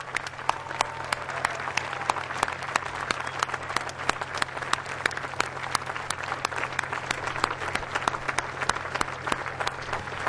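Sustained audience applause at an evening ceremony at the Kennedy Space Center Visitor Complex honoring astronauts, a dense steady wash of many hands clapping with scattered louder claps, no talk over it.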